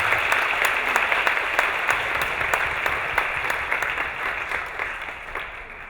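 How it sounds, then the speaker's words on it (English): Dense audience applause after a panel discussion, a steady wash of many hands clapping at once that holds strong and then gradually thins and fades toward the end. "Give a round of applause."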